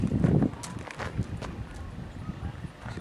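A horse moves about on a farm, its hooves clip-clopping in an uneven string of close knocks, with a burst of rumble at the start and faint voices in the background.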